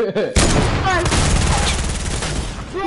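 Dense gunfire crackles loudly and nearly continuously in a video game, with rapid overlapping shots and booms over a brief moment of quiet at the start; a sniper rifle shot is among the fire.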